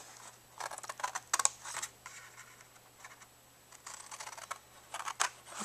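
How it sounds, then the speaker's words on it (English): Scissors cut a half-inch section of paper for a handmade mini album journal, giving close, quiet bursts of crisp snipping and rustling with short pauses between cuts, no voice present. "we want to come in and cut out that 1/2 inch section"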